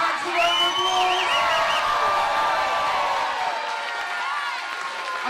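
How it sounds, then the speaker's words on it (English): A crowd at a chilli eating contest during the Bath Chilli Festival breaks into steady applause mixed with whoops and cheers, sustained and lively throughout, with some shouting voices in the mix. "Can you give Haks a round of applause?"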